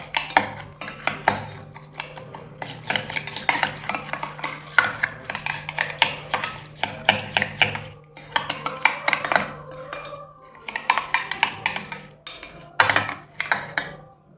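Spoon stirring and breaking up thick set curd in a bowl for ginger curd, giving repeated close clinks and scrapes against the dish in uneven bursts with short pauses, no talking.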